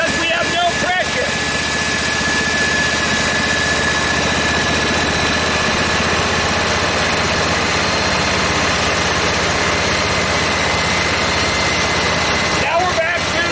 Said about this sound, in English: Always listen to the pump engine.